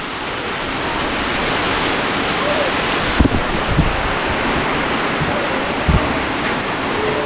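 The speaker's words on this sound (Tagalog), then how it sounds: "Naabot ng ulan eh." Heavy rain pours down on a farm at a bitter gourd harvest, a loud and steady broadband rush with a few brief knocks and thumps partway through.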